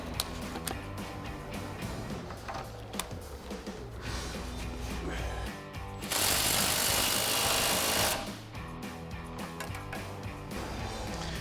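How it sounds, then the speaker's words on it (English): An impact wrench with a 19 mm socket, swivel adapter and extension drives a front suspension bolt on a Ford F-150 during a Bilstein leveling kit install, hammering in one loud two-second burst amid lighter clanks and shop noise. "now we'll tighten this up with our 19 mil socket and swivel adapter along with an extension on our impact"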